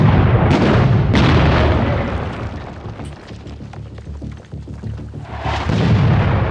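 Grenade blast inside a tunnel in the combat game Six Days in Fallujah: a loud, close boom opens, followed by a second burst, a long rumbling, rattling tail of debris that fades, then another heavy roar near the end.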